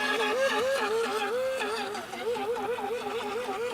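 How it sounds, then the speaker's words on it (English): Small remote control speedboat on a lake, its tiny motor whining in a constant high pitch that wavers rhythmically as it turns, heard loud and nearby over faint background noise. "it was a little speedboat he's got. Remote control."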